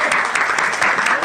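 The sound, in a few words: audience applause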